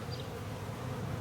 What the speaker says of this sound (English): These two bees here, one's trying to get away and he's won't let it go.